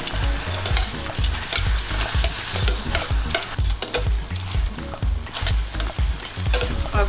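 Lomo saltado with soy sauce and ají paste is stirred in a hot pan, giving a continuous sizzle broken by rhythmic scraping and clanking of the utensil, close and fairly loud.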